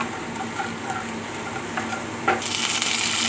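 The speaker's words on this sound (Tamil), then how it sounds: "இஞ்சியும் பூண்டையும் போட்டுக்கோங்க போட்டு நல்லா வதக்கிக்கோங்க" Ginger, garlic, mustard seeds and urad dal sauté in hot oil in a pan, a steady close sizzle with light stirring that swells louder and brighter near the end.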